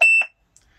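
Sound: CB radio roger beep

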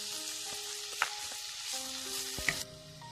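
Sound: stirring finely chopped carrots and cabbage into spiced khichdi

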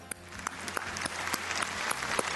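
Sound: studio audience applause

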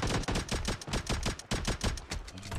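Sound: pistol gunshots in video game PUBG Mobile zombie mode

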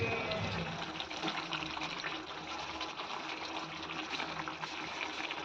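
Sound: water poured into pan with fried garlic

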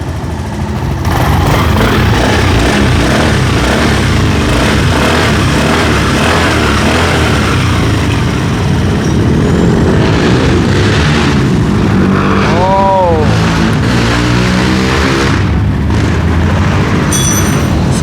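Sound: Suzuki Skydrive fuel-injected motorcycle engine starting and idling

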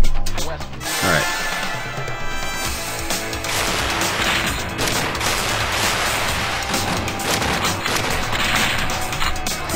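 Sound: grenade launcher gunfire in Strike Force Heroes 3 video game

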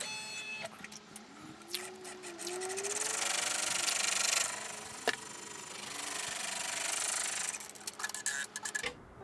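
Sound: embroidery machine sewing placement stitch

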